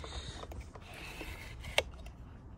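A drive belt being fitted onto a vacuum cleaner: faint, close mechanical creaks and small plastic clicks, with one sharper click near the end over quiet room tone.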